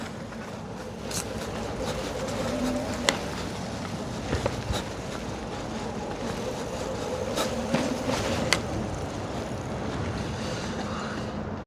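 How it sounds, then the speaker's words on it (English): A OneSport OT16 folding e-bike rides on throttle alone, with a steady rushing whir of motor, tires and wind, plus a few faint clicks and rattles. "you can start riding it by simply using the throttle alone here"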